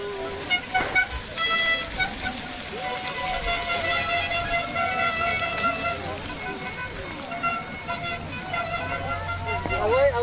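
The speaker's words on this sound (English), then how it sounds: "Air horn." Horn-like air horn blasts sound over a busy, noisy background with steady pouring rain or crowd roar at an outdoor race in Newport, Vermont, a sustained toot that holds for several seconds.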